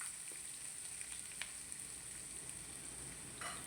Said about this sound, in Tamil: இப்போ நம்ம கட் பண்ணி வச்ச உருளைக்கிழங்கு இதில் சேர்த்துடலாம்.